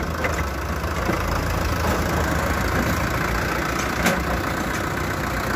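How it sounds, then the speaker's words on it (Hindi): A Sonalika 750 tractor engine drones loud and steady as it strains to reverse a trolley loaded with bricks, the trolley's front hook broken. "Sonalika 750 third, Sonalika international HDM Sikandar. ईट के ट्रॉली को बैक करता हुआ"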